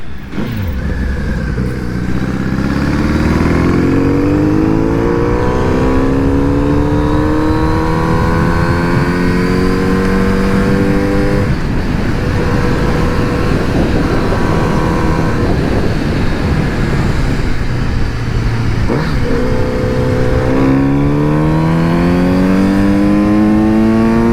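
Close, loud Kawasaki Z900 RS (2022) motorcycle engine with a deep airbox intake roar, revving up through several gears with brief dips between shifts, continuous throughout.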